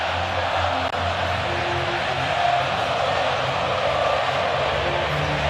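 Botafogo football fans fill a stadium with a steady, dense crowd roar after the 2024 Brazilian title win, a continuous wash of cheering and singing heard from within the stands.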